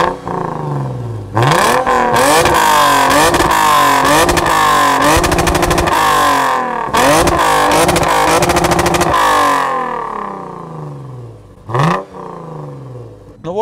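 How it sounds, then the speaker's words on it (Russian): Lexus GS350 4WD with a 317-horsepower engine accelerating hard, its exhaust booming deeply through repeated rising revs and gear changes, loud and close, with a brief lull near the end before another surge. "А когда начинаешь разгоняться, он прям так басит."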